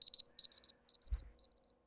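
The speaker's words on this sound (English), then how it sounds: "I've got to get this alarm off." An electronic alarm goes off with rapid, high-pitched paired beeps in quick bursts that thin out and fade. A brief low thump is heard partway through. No speech.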